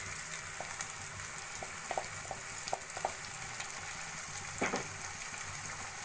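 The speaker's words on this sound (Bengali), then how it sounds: "এবার মশলাটা ভালো করে আমি কষিয়ে নেব।" Tomato and chili spice paste frying in a pan gives a steady, close crackling sizzle, with a few light spoon scrapes and taps scattered through.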